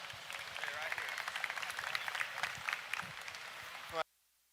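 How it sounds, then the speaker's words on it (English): An arena crowd at a purebred breeding ewe show claps steadily as sheep exhibitors leave the show ring, a dense, moderately loud patter that stops abruptly near the end. "They deserve a nice round of applause here as they're leaving us"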